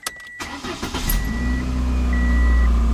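A few clicks and a cranking starter lead into a Ford Escort or Mercury Tracer engine catching and settling into a steady, loud idle nearby.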